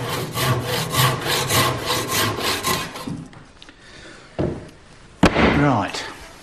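Rapid rhythmic hand-sawing through an oak newel post for about three seconds, then it stops, followed by a couple of sharp knocks and clatters nearby.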